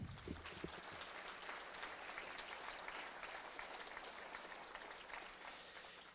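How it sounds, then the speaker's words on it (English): Applause from the audience at a Chamber of Commerce municipal candidates' event, fairly faint and distant, a continuous wash of many clapping hands holding steady throughout before easing slightly at the end. "How about a round of applause for our moderator, Ken?"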